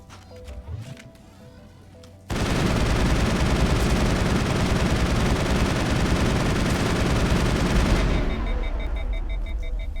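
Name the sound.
gunfire from the player's gun in the video game Mass Effect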